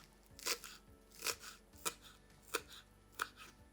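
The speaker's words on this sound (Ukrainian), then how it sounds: "це свіжа зелена цибуля. Нарізаємо її досить дрібно." Fresh green onion is being finely chopped with a knife on a board, five crisp, evenly spaced cuts landing close and clear against a quiet background.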